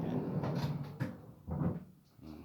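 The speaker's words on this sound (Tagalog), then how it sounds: "Soft close din na drawer." A soft-close drawer in a newly finished cabinet slides open and shuts with muffled wooden thuds and a gentle damped closing, heard close and quiet with no talk.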